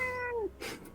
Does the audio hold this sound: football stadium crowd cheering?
no